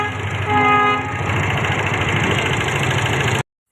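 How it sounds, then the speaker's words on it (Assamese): A train approaches at a railway colony crossing where a goods train waits: a loud, close diesel engine rumbles steadily, a horn blast sounds near the start, and the sound cuts off abruptly at the end. "ৰখি থাকিব লাগে যে এই ট্ৰেইন আহি আছে ন, সেইকাৰণে ৰখি আছোঁ।"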